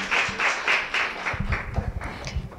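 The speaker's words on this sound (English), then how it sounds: "Please, let's clap better for Olivia." An audience claps for a presenter at a women-in-entrepreneurship talk, a brief patter of applause from a small crowd, with a voice speaking over the latter half.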